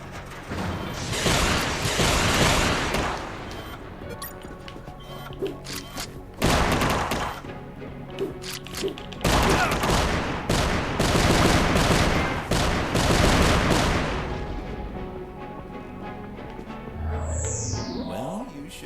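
Sustained bursts of rapid video game gunfire in UnMetal, loud and dense, broken by short pauses and a few thumps and whooshes, with game music underneath.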